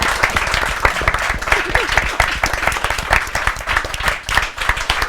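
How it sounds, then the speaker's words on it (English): An audience in a room gives a big round of applause for guests at a book launch event, with dense, sustained clapping throughout and some crowd voices mixed in. "I want a big round of applause for our guests tonight."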